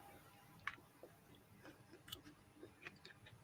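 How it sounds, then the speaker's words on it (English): Someone bites into and chews hot, still-crunchy cooked cucumber up close, giving a few sharp crunchy clicks scattered over a quiet background. "Cucumber's still crunchy."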